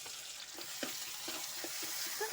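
Steady sizzling of onions frying in hot oil, with a few soft clinks of a spoon stirring the pan.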